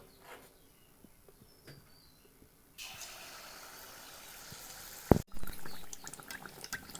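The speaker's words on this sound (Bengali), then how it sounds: "আগে থেকে তেল গরম করতে রেখেছি এবার পাকোয়ানটা ভেজে নেব" Pakuan dough going into hot oil: after a quiet start with faint insect chirps, a soft broadband hiss of frying rises and then swells with a louder burst near the end.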